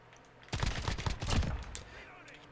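Bursts of 1911 pistol fire in the Call of Duty: Modern Warfare video game, loud and close, a quick cluster of shots after a brief quiet lead-in, fading into a softer tail.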